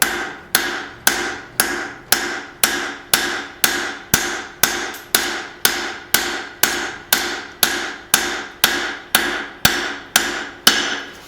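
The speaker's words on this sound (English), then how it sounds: "Now I'm going to start to pull down some area" A cross peen hammer strikes hot steel on an anvil while a tomahawk is forged, about nineteen loud close blows in a very steady rhythm, each a sharp metallic impact with a brief ringing tail, no speech.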